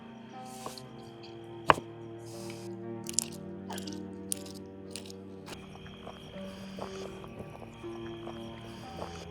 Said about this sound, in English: Just chop some of that